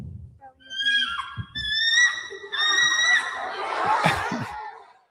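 A person vocally imitates a bald eagle's call: a series of high, harmonic chirping whistles followed by a harsher chattering screech, loud and close, alone without talking over it.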